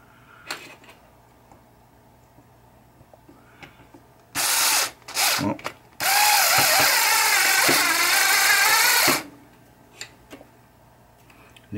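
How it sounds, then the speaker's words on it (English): A magnetic power screwdriver drives screws into the flipper assembly of a 1972 Williams Super Star pinball machine, with a couple of short whirring bursts followed by one longer steady run, close and loud. "let's use a magnetic screwdriver"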